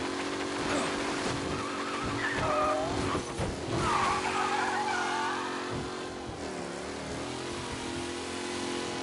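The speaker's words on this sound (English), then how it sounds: "Officers reporting a race car driving at speed through the city." A race car in the video game Mafia speeds through city streets, its engine roaring close and loud with long squealing tire skids swelling and fading over a steady rumble.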